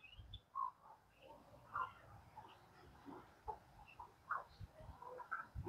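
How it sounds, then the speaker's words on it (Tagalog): Chickens warming themselves after overnight rain give soft, scattered clucks and brief calls, faint and spaced out over a quiet background, with no talk. "Yung mga manok natin"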